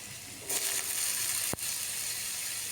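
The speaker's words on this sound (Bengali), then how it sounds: "হলুদ দিয়ে আলুগুলা আমি একটু লাল লাল করে ভাজছি।" Potatoes frying in mustard oil with turmeric, a steady hiss of sizzling that starts abruptly and holds level, with one sharp knock of a utensil partway through; no talking.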